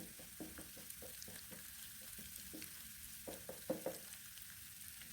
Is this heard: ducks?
no